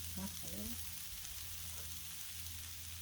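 Beef stir fry sizzles on a Blackstone griddle as a steady, moderate hiss, with a brief murmur of a voice near the start before the frying continues alone.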